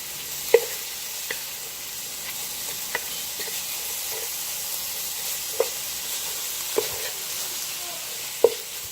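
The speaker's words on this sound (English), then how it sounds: "we're going to stir that right in" Steak seasoned with garlic, Larry's seasoning and lemon pepper sizzles steadily in a pan while a utensil stirs, with sharp scrapes and taps recurring every second or two.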